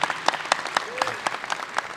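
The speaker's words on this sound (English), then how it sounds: "So, round of applause for all of the city officials that have helped this day happen." Brief applause from a crowd at a Providence, Rhode Island ceremony honoring a World Series MVP, cheering city officials with sparse, distinct claps and a voice rising over them.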